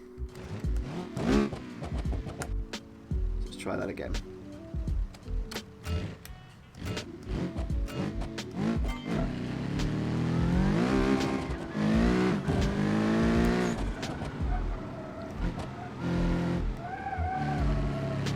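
A race car in BeamNG.drive on the Nurburgring with a sequential gearbox revs hard through rising and falling engine pitches, with quick gear changes, tire squeal and bursts of acceleration; a voice briefly speaks over it.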